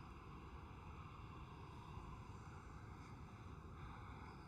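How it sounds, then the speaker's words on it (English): Air Transat airliner on an intersection takeoff at Amsterdam Schiphol airport, a steady broadband jet engine roar heard from a distance with constant loudness throughout. "Air Transat going for the intersection takeoff."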